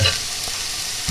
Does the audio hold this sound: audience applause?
no